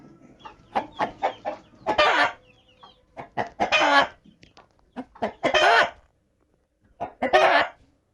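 A rooster among hens and chicks makes repeated protective clucking, croaking calls in uneven bursts, close and fairly loud, with short pauses between.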